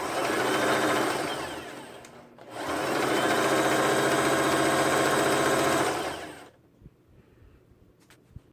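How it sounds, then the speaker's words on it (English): Sewing machine running a zigzag stitch around a shirt armhole: two loud sustained whirring runs with a brief pause between, then the motor stops and soft handling clicks follow. "I'm going to use that same zigzag stitch, and I'm going to go all the way around the armhole."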